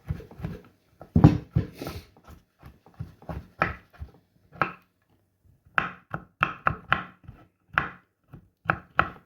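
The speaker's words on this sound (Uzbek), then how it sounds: "Charvlarimizni mayda to'g'rab olamiz." A knife finely chopping beef fat on a cutting board, with quick sharp thuds in irregular bursts close up, separated by brief pauses.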